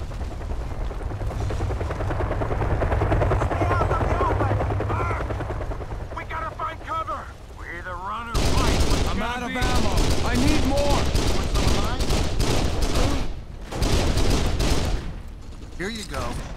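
Machine gun fire from a vehicle gunner in Kane & Lynch, a steady rattling barrage of rapid shots that grows louder midway, over a low engine rumble with voices calling out.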